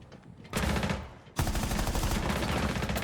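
A teammate fires a gun in Rainbow Six Siege: two loud sustained bursts of rapid automatic fire, the second longer and continuing to the end.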